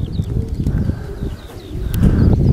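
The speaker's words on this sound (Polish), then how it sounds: "I mamy chyba następnego gołębia. Też już zaleciał od tyłu. Jest tutaj, krąży." Pigeon sounds with wing flaps and cooing as a racing pigeon circles in at a loft in Kalisz, close and fairly loud, rising toward the end over a bed of outdoor noise.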